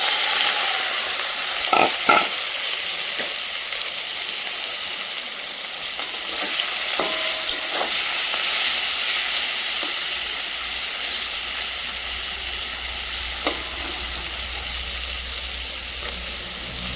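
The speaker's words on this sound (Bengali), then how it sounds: "তেল গরম হয়ে গিয়েছে, এবার চিংড়িটা দিয়ে দেবো।" Prawns drop into hot oil in a home kitchen and fry with a steady, loud sizzle and hiss, broken by a few sharp crackles and spatters near the start and middle.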